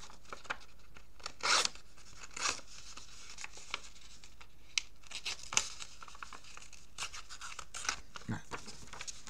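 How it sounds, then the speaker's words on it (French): A thread cutter scrapes and rasps along paper edges to distress junk-journal pages, giving short, irregular bursts of scratching and tearing, close and fairly quiet, with a voice speaking between strokes. "Et moi je m'en sers pour élimer mes papiers."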